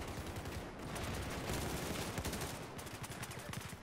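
Rapid, continuous gunfire in the video game Battlefield 4, dense bursts of automatic shots layered over each other, loud throughout with no talking.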